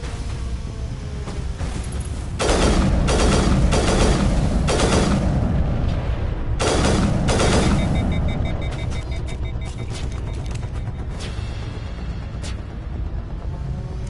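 Sniper rifle shots in the game Mass Effect Legendary Edition, a cluster of loud booming reports with ringing tails, then a few more shots and fainter mechanical clicks and impacts over a steady rumble.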